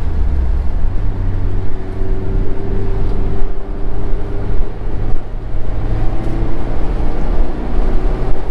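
Interior drive in a 2017 Mazda Miata RF, with a loud, steady engine and road drone holding a constant pitch throughout.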